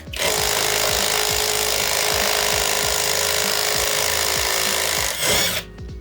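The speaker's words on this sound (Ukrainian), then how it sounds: "Тепер беру в руки гайковерт, ставимо на відкручування." A cheap cordless impact wrench from AliExpress hammers loudly and continuously while unscrewing a nut, rapid repeated blows under a high whine for about five seconds before stopping abruptly.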